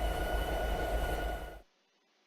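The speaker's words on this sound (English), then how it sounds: "Congratulations, the train stopped." A train in Train Simulator 2019 rumbles with steady low mechanical noise and a faint whine, then cuts off abruptly to near silence as it comes to a stop, followed by a tiny click.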